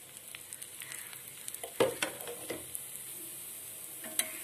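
Wheat dosa frying in oil on a pan, a close, soft continuous sizzle scattered with small crackles and a sharper spatter burst partway through, no voices.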